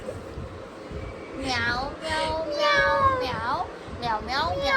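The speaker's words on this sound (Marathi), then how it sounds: "म्याव म्याव म्याव म्याव म्याव म्याव म्याव" A string of loud, close cat meows, one after another in quick succession, with voices murmuring in the background.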